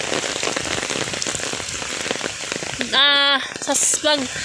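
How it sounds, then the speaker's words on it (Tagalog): Heavy rain pours down in a dense, loud hiss, with a voice briefly speaking over it near the end. "Lakas ng ulan."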